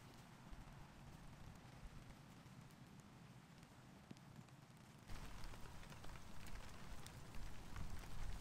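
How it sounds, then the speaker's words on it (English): Steady rain hissing down on a woodland campsite under a hastily rigged tarp beside a campfire, a dense constant patter that grows heavier and louder partway through. "At this point, the forecasted rain appeared"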